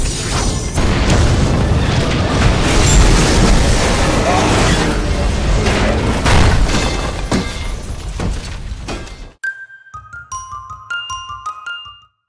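A loud, sustained roaring gas explosion with crashing debris fills most of the clip, then cuts to quieter tonal electronic beeps.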